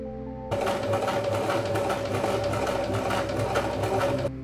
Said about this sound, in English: I'm going to do another pass at the bottom side of the ring just to make sure it absolutely can't come loose